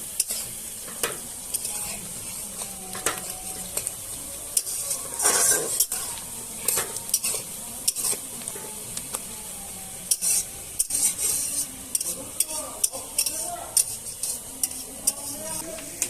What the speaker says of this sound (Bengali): ততক্ষণে আমরা পেঁয়াজটা যে দিয়েছিলাম সেই পেঁয়াজটা আমরা একটু লাল করে ভেজে নেব